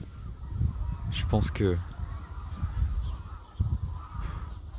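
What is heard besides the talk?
birds calling loudly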